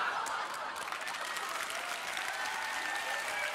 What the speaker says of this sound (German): Warum wird denn da geklatscht?